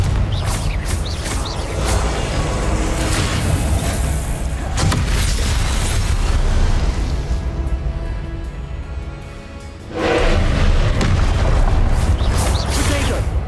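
A Confringo blasting spell explodes in the Hogwarts Legacy video game: loud, dense booming blasts fill the scene, ease off briefly, then surge back with full force.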